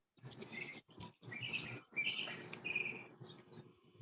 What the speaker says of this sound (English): I love the bird sound